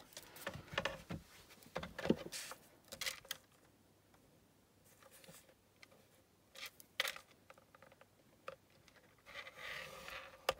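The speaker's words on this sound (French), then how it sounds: "ma planche à rainurer et essayer de faire des plis bien droits" A paper napkin is creased on a scoring board in a napkin-decoupage craft, producing faint, intermittent scraping and tapping strokes of a tool on paper, quiet and close, with no talking.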